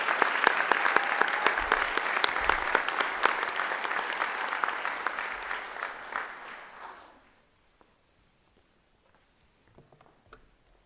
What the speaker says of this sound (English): Please, one more round of applause for a job well done.